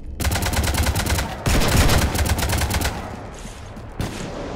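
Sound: gunfire on a ship, from video game Mass Effect 3

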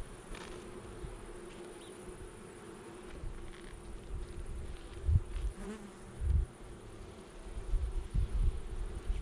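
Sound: honeybees buzzing around hive

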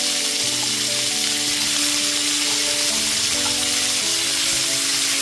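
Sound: pumpkin and flat beans frying in vegetable pan

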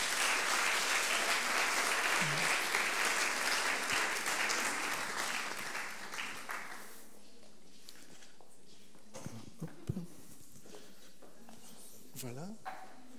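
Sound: audience applause

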